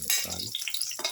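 Garlic and ginger frying in a pan with shallots, bursts of hot sizzling punctuated by a brief stirring scrape, close and alone.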